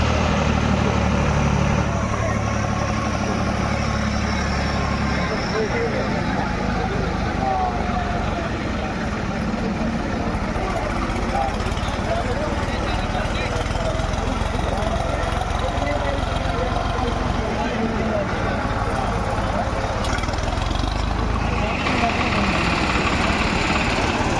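An old tractor engine idles steadily with a deep, continuous rumble that stays constant for the whole stretch, close and fairly loud, with some voices faintly mixed in, at a tractor tochan pulling contest.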